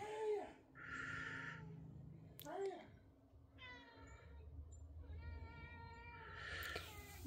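A cat meows several times, drawn-out, plaintive calls spaced across a few seconds, fairly close and moderately quiet, with some faint background noise between the cries.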